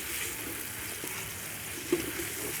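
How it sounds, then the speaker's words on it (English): Onions frying in a pan with a little salt for beef pilau, a steady close sizzle running throughout with one small clink near the end. "Now our onions are starting to turn brown. So now I'll turn the gas to low and keep on cooking them."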